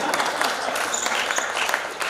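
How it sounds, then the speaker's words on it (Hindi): Audience clapping at a Hindi comedy poetry gathering, a dense steady wash of many hands applauding together, moderately loud and sustained throughout, no speech over it. "मजा आ रहा है तो सब लोग ताली बजाइए"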